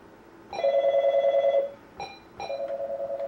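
A telephone rings in an electronic trill, one long ring followed by a short burst and another ring starting, clear and fairly close with no talk.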